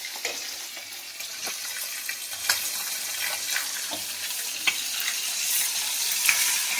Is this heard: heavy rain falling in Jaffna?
no